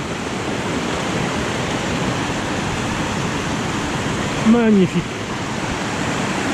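A waterfall roars in a steady, dense rush that fills the whole scene, and someone briefly speaks over it near the end.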